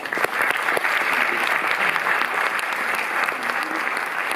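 An audience applauds to welcome a guest at a film talk at the Cinémathèque in Paris, a steady, dense clapping that holds at even loudness for the whole stretch without any voices.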